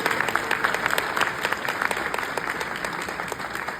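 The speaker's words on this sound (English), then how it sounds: "Everyone, please give a round of applause for Amazon, Comerica Bank, and Prosper Africa." A crowd gives a steady round of applause at a national Black business conference, dense overlapping claps holding evenly for several seconds at moderate volume.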